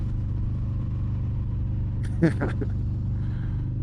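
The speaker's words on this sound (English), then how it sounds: "I absolutely love the sound of this bike." A steady, low motorcycle engine drone runs throughout while riding, with a short burst of louder noise near the middle.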